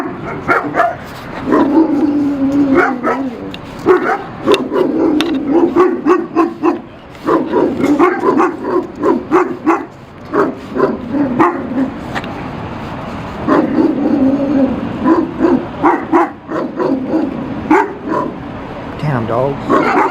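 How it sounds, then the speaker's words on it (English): Dogs barking outdoors during a live street stream in Bakersfield, California, with repeated loud barks and yips through most of the stretch, mixed with a person talking and some traffic noise. "so you guys don't get bombarded with dogs barking"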